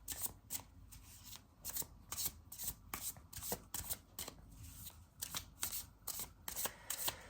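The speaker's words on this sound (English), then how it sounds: "I will pull 3 cards for advices" Tarot cards shuffled by hand in a steady run of soft riffling bursts and flicks, fairly close and quiet, with no voices.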